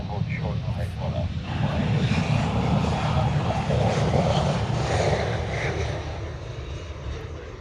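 An airplane at a Hawaii airport, a steady loud jet engine roar under radio talk from air traffic control.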